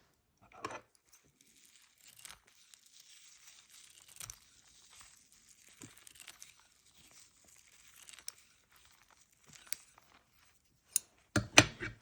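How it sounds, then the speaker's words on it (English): Scissors snip white pine needles into small pieces, giving faint, sparse crisp cuts and rustles spread across quiet gaps, with a quick cluster of louder snips at the end. "I go ahead and use scissors to just cut them up into smaller pieces."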